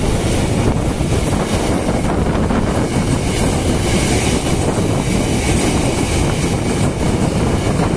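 A KRL commuter line electric train enters Cikini station in Jakarta, a loud, continuous rumble of wheels and carriages rolling close by, steady for the whole stretch.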